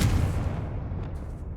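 A Confringo fire spell explosion in Hogwarts Legacy, a short booming burst with a low rumble that fades quickly over about a second and a half.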